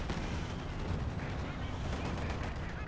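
Tank gunfire, including a KV-2 assault tank, in the World War II strategy game Company of Heroes: a dense, continuous barrage of booming shots and blasts that stays loud and steady throughout.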